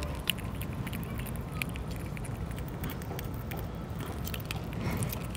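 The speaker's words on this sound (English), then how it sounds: "Now, enjoy her crunchy sounds." A mother squirrel gnaws with her teeth, making steady crunchy chewing and crackling sounds up close, with faint clicks and rustles throughout.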